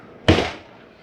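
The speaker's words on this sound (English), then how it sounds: "Close the exterior door" The exterior door of an XLR Boost 21QBS RV is shut with a single sharp, close thud that fades quickly.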